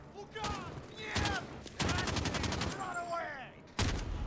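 Gunfire in Call of Duty: Modern Warfare on the Highway of Death map, with several loud broadband shot bursts separated by brief gaps, overlaid with voices talking during play.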